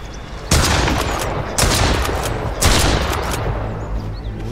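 Three loud, sharp gunshots ring out at evenly spaced intervals while fighting a zombie in a foggy survival game, each blast followed by a short decaying tail, with no voices.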